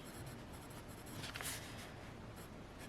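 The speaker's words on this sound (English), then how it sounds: "Just going to quickly write in here" Pen scratching across the paper of a Field Notes pocket notebook, a soft continuous writing sound close up, with a brief louder stroke midway and no talking.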